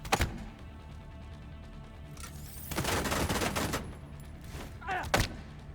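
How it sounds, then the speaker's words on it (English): Video game gunfire: a few sharp shots near the start, then a dense burst of firing mid-clip and another pair of loud shots near the end, with quieter mechanical reloading sounds in between. "he's like firing twice and then reloading for some reason"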